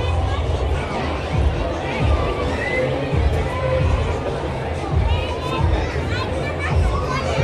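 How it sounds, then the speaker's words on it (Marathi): Dense crowd babble fills a large funfair at HA Ground in Pimpri, Pune: a continuous, even hubbub of many overlapping voices with no single speaker standing out. "तर बघू शकता कशा प्रकारे गर्दी मित्रांनो, संपूर्ण गर्दी मित्रांनो"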